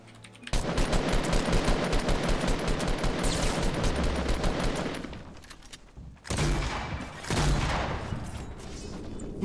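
Video game gunfire in a fast automatic burst, loud and close, with dense rapid shots running for several seconds, a brief pause, then another sustained burst.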